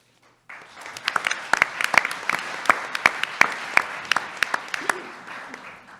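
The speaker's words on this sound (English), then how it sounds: "I hope you could hear your round of applause there." Audience applause for a panel speaker at a policy session on offshore wind, starting after a brief pause and holding steady with sharp individual claps scattered through a dense wash of clapping, fading slightly near the end.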